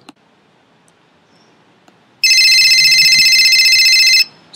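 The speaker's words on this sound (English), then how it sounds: "It's the phone." A telephone rings once in a long, loud electronic trill lasting about two seconds, after a near-silent room with a few faint clicks, then stops abruptly.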